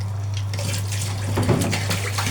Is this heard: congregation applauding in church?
no